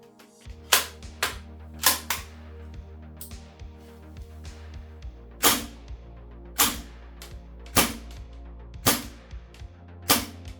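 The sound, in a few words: Kingdom Technology KG-9 airsoft gun shooting BBs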